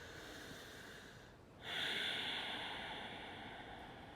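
A single slow, hissing breath drawn in and let out during yoga child's pose, close and soft, against a quiet noisy background with no talking.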